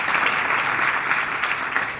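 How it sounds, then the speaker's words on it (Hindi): An audience claps loudly for the women at a live show, a dense, steady wash of applause with no pauses. "सभी भाइयों ने मिलकर जोरदार महिलाओं के लिए ताली बजाई।"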